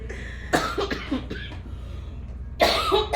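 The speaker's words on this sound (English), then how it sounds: "Excuse my cough, guys." A series of harsh coughs close up, a cluster of several quick bursts followed by a pause and another loud cough.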